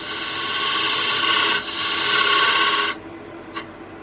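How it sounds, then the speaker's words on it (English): The point of a skew chisel cutting a dovetail into pewter spinning on a lathe gives a steady, loud, tonal metallic scraping whine for about three seconds, then stops, leaving faint lathe hum and one small tick. "I like to put a little dovetail on the inside so that it metal grips better when it's being turned, using the point of a skew chisel to do this."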